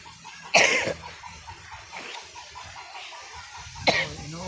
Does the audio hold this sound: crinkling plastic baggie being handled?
no